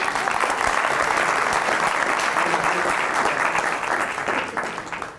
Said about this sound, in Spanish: Por favor, denle un aplauso